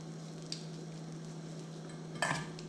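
Carnitas and melted cheese on a flat griddle for a loaded taco, sizzling steadily with a low hum underneath, a light metal scrape of the spatula early on and a louder clatter of mixing near the end.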